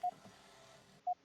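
Two short electronic beeps from a cell phone in the Puzzle Agent video game, spaced about a second apart over a quiet background.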